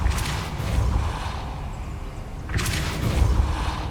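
Depulso force spell cast in Hogwarts Legacy, two whooshing bursts with a deep rumbling boom, each swelling and fading, loud and close with no talk.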